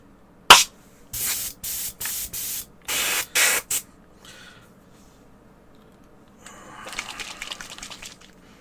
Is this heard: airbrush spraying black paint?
yes